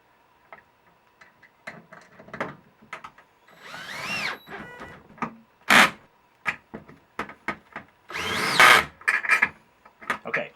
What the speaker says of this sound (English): what I'm going to do is snug up these 6 set screws, and I'm going to alternate